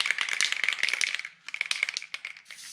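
Gorilla Glue spray adhesive hisses from a can in rapid bursts, a crackly rattling spray with a short pause midway before more spurts, close and loud with no talking.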